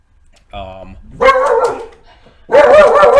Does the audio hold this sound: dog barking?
yes